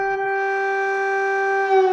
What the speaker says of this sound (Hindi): हर रात कीव जैसी शहरें लगातार सायरनों के डर के साए में जीती है, एक कान फोड़ू आवाज जो घंटों तक बजती रहती है।